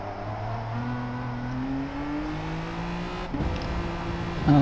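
Race car engine in a racing video game on a Tokyo circuit, a steady whining drone climbing slowly in pitch as it accelerates, then a gear change and a louder surge near the end, no voices.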